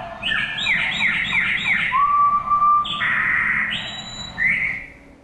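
A sparrow sings, opening with a fast, bright trill of rapid repeated notes, then a clear whistled tone and a few sustained higher notes, loud and close with no talking.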